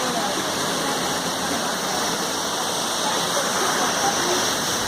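Waterfall beside the mountain road from Gangtok to Lachen in North Sikkim, a steady broadband roar of rushing water that fills the scene without a break, with voices faintly mixed into the continuous wash.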